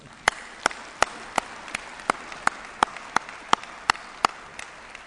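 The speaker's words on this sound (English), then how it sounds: "I think Øystein deserves a big round of applause for what he's done the last 6 years." Single sharp claps at a steady, even pace, about a dozen in five seconds, ring out over a quiet room hiss during the opening ceremony of the CITES COP17 wildlife trade conference.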